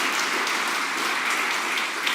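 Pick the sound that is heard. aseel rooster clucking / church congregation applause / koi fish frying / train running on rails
church congregation applause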